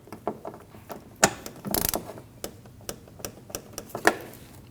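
Close, sharp ratcheting clicks come in quick irregular bursts as a wrench tightens and torques an 8mm fan shroud bolt on a 2012-2021 Nissan NV2500 5.6L V8, with a short rattling spell midway and no talking.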